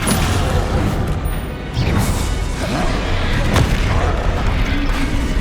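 Descendo spell impacts in a Harry Potter video game, heavy booming crashes landing one after another over rumbling game noise.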